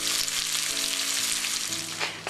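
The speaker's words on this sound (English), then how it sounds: "Take your frying pan, give them a chance to get brown on one side" Blintzes sizzle steadily in a frying pan as they brown on one side, a close, constant crackling frying sound with no talking.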